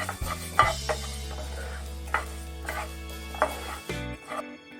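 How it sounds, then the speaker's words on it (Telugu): Coriander seeds and cumin dry-roasting together in a pan for homemade sambar powder, with repeated scraping and rattling stirring strokes over a steady low hum, close and moderately loud. "ఇప్పుడు ఈ 2 కలిపి ఫ్రై చేసేసి ఫ్రై అయిన తర్వాత మళ్ళీ ప్లేట్లో తీసుకుందాం."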